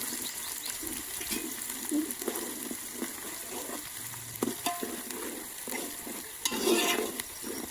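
Onion frying in a pan during an outdoor village cooking session in Konkan, with a soft sizzle and repeated scraping strokes of stirring, moderately quiet and unbroken by speech.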